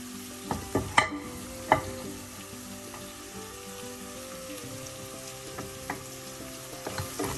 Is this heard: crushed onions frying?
yes